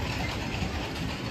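An amusement park ride rolls along rails in a park in Khyrdalan, Azerbaijan, a loud, steady rumbling clatter with no pauses.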